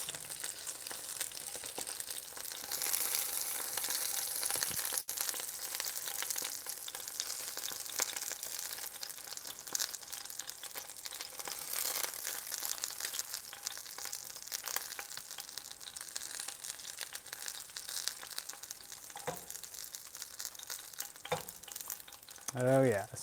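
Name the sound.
tofu pan frying in oil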